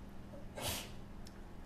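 One short sneeze, faint and nearby, in an otherwise quiet room.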